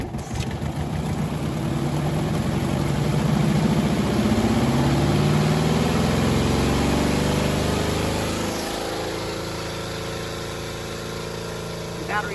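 A washing machine running off an ALLPOWERS R600 solar battery spins a load of laundry, a loud motor whir rising in pitch as the drum speeds up, then slowing and dropping lower toward the end.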